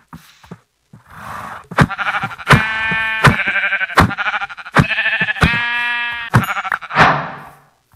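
Sheep bleat loudly in a crafting video game, a run of repeated wavering bleats one after another at close range, clear and alone with no talk over them.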